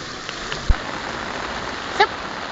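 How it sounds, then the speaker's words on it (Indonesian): Heavy rain pours steadily during a flood, a dense even hiss with a few louder drops or taps standing out and no voices. "ini memang hujannya masih terjadi dan memang cukup deras"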